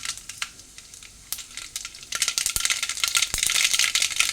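Mustard seeds spluttering in hot oil in a pan while cooking a spinach stir-fry, a dense crackle of rapid pops that starts sparse and grows louder and busier as the seeds burst, with no voices.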